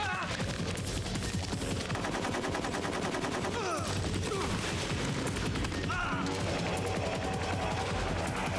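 Continuous dense gunfire and machine-gun bursts fill the scene in Metal Gear Solid 3 HD on PlayStation 3, loud and unbroken with overlapping shots and effects throughout.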